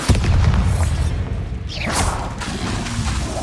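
The Bombarda spell goes off in the Hogwarts video game, a loud booming blast with a rushing whoosh and crackling debris that roars through the whole moment.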